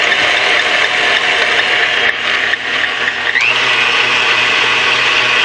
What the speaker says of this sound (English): If the butter is room temperature, the creaming process takes a very short time.